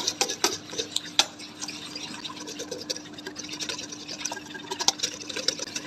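Spice masala with two spoons of lemon juice being mixed for fried chicken: soft wet stirring and scraping in a bowl, with small clicks and a few sharper taps of a spoon against the side throughout.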